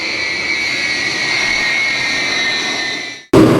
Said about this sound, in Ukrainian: Транспортний літак Іл-76 повітряних сил, пілотований екіпажем з Мелітополя, відбув в охоплену громадянською війною Лівію.